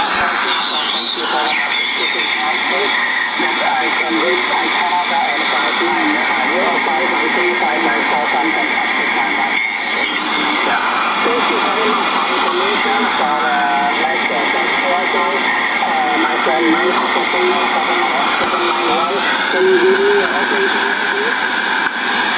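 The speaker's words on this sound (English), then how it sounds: "We do have some QRM in there, but a very nice signal from Indonesia" Shortwave amateur radio reception of a station from Java, Indonesia, with a voice coming through hissy, band-limited static and QRM interference that warbles and whistles continuously underneath it.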